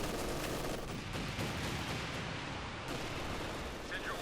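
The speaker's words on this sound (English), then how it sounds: "Another Calliope barrage there from Boy." Calliope rocket barrage in Company of Heroes 2, heard as a dense rumbling volley of rapid impacts and explosions in a 2v2 battle, with a commentator's voice running over it.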